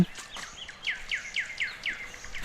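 A bird repeats a short downward-swooping call about six times in quick, regular succession, fairly close, over faint background noise.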